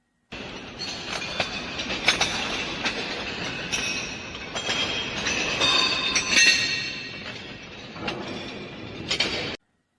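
Iron faces scattered on the floor of the Berlin Jewish Museum installation clatter and clank underfoot, a dense stream of metallic clinks and scrapes that rises and falls over several seconds in a reverberant space.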